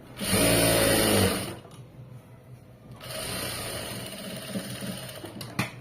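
A sewing machine stitches a straight seam on a garment in a loud, fast whirring burst of about a second, then runs more quietly in a lower, steady churn with faint handling clicks.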